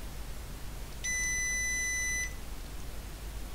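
Multimeter continuity beep while probing the reader switch contacts of an ASR33 teleprinter: a single steady electronic tone lasting about a second, clear and close, over a quiet background hum.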